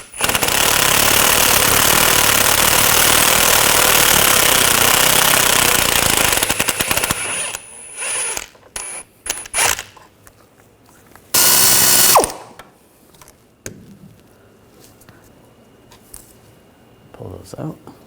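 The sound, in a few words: power tool loosening hub bolts on a Ford Escape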